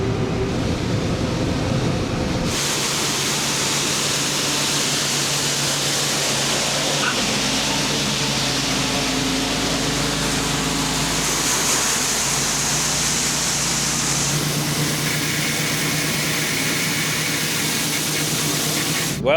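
Tractor pulling a fully loaded grain cart up a hill on a farm, a steady heavy engine rumble with broad rushing noise that runs continuously at close range, shifting in tone partway through, with no talk.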